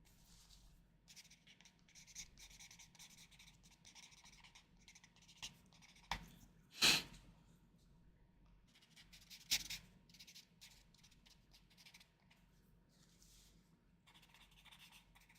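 Markers stroking across paper in a watercolor-style marker drawing, quiet and close, with soft intermittent scratchy strokes and a few sharper scrapes in a calm room, no talking.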